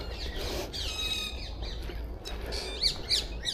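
Harsh, repeated squawks from a parakeet ring out over steady outdoor background noise on a quiet walk, with several loud calls clustered toward the end.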